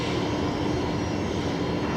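A Qatar Airways airliner departing Brisbane Airport, its engines producing a steady, loud broadband roar with no breaks, heard from nearby.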